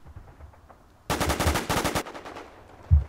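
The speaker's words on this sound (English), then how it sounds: "I was shooting you with a shotgun" A shotgun in the War Inc video game fires a rapid volley of loud, close blasts lasting about a second, then a brief pause and a single low thump.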